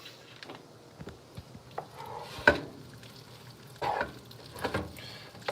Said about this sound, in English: Just stir these noodles up.